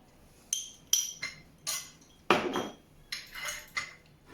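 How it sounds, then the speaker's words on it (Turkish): Spoon or utensil clinking against a bowl while kısır, a bulgur salad with black pepper, fresh and dried mint, is stirred; about eight distinct clinks and scrapes in an irregular rhythm, close and moderately loud, with no talking. "Şöyle yavaş yavaş karıştırıyorum"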